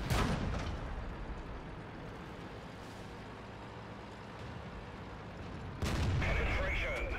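Heavy tank cannon shots in World of Tanks gameplay, with a loud blast at the start and another near the end over a steady low rumble of engine and battle ambience.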